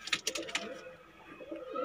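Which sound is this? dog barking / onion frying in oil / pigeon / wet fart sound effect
pigeon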